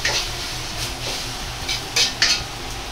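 Eggs stir-fried in about two tablespoons of oil in a pan, with a utensil scraping and clinking against the metal over a soft sizzle, including a few sharper scrapes near the end.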